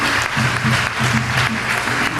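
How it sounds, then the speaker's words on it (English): Sustained audience applause at a dancehall reggae talk session at Reggae University, a dense, even wash of clapping from a crowd with no voices over it. "I want to give both of them a big round of applause for the various aspects."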